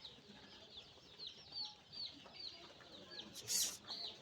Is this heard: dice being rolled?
no